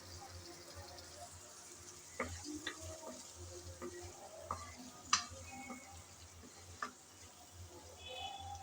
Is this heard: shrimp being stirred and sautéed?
yes